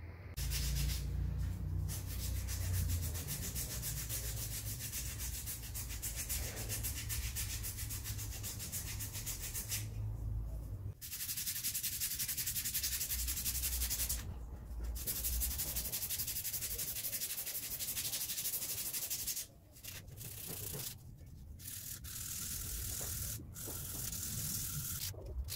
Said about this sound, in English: Anyway, on to sanding.